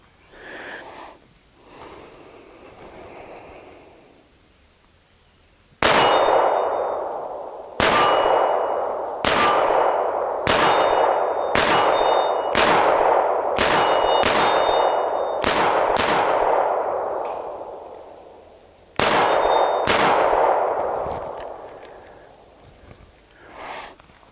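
Loud gunshots from a Springfield Armory XD-45 .45 ACP pistol at an outdoor range. A rapid string of about ten shots rings out, then a pause and two more, each a sharp crack with a ringing tail, close and with no talking.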